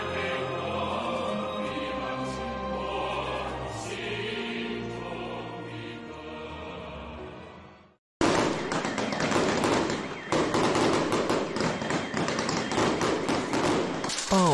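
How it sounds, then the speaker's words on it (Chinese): Fireworks and firecrackers go off at midnight for Chinese New Year: after a stretch of music, a dense, loud barrage of rapid crackling bangs and pops fills the rest of the clip without pause. "午夜12点，燃放烟花爆竹是辞旧迎新的标志性仪式。"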